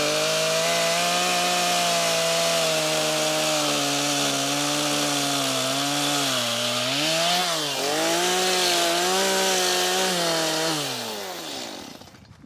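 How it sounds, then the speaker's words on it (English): Chainsaw cutting timber during garden room base work: a loud, steady high-revving engine whine held for about twelve seconds, dipping under load as the chain bites, then cutting off abruptly, alone and close. "Right, Jen, chainsaw is highly dangerous."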